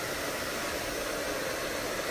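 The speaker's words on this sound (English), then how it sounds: "I keep the hairdryer facing down. I focus on the airflow. I keep the hairdryer moving." A handheld hair dryer blows steadily during wrap drying of a short layered women's haircut, a constant close broadband whoosh with no breaks and no talking.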